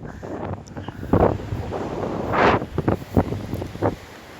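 Wind buffets the microphone on a quiet, uncrowded beach in Sri Lanka, with soft wave wash underneath and several gustier surges rising and falling throughout.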